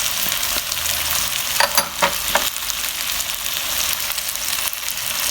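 Ground spices with turmeric, coriander powder, cumin powder, salt and paprika roasting in a pan for Punjabi aloo methi, giving a steady close frying hiss. A few brief scraping stirs are heard near the middle.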